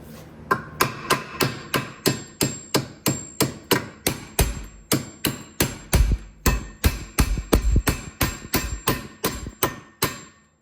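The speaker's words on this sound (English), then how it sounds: "I'm just using my 1 pound hammer." Steady, evenly spaced metallic taps of a one pound hammer on a stuck rear brake part of a 2011-2015 Kia Optima or Hyundai Sonata, about two per second, sharp and close, continuing throughout.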